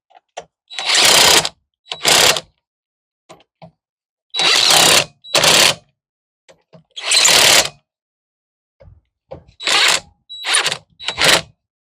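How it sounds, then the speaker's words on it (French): An impact wrench loosens anti-theft wheel bolts on a Citroën C4 Picasso during a front brake job, firing about seven loud, close rattling bursts in pairs, separated by near silence. "Doucement les boulons anti-vol à la péteuse"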